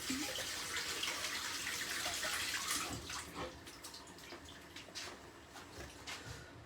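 Baby plum tomatoes rinsed under a running kitchen tap, a steady broadband rush of water pouring and splashing throughout, slightly louder at the start and then settling with small splashy fluctuations.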